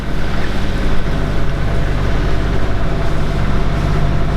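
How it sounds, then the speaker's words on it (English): A French boat's engine rumbles steadily nearby on the Mediterranean, with wind and water noise underneath and no voices. "French boat just passing us."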